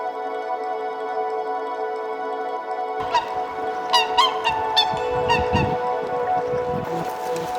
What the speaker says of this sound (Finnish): linnut lauloi